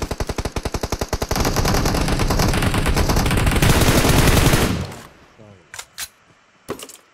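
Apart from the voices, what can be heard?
gunfire in the video game PUBG Mobile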